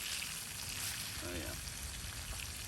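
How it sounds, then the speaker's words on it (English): Onions frying over an outdoor campfire at a winter bushcraft camp by Eagle Lake, North Carolina, giving a steady, faint broadband sizzle with soft crackles and light spattering throughout, with no speech. "Onions are starting to caramelize."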